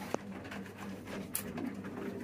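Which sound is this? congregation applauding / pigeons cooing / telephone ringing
pigeons cooing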